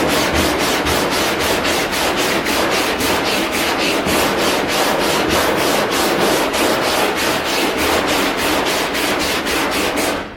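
A power sander works over the hood of a junkyard Cadillac with loud, continuous abrasive rasping in a quick, even back-and-forth rhythm, close up and without talk.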